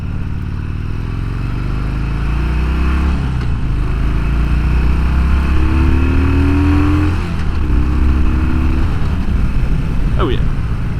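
A 2009 Harley-Davidson Sportster 1200 Custom motorcycle engine drones steadily while riding, its low throbbing rumble rising and falling in pitch as it accelerates, with a voice talking over it throughout.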